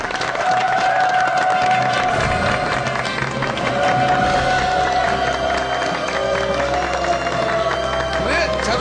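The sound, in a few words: studio audience applause welcoming guests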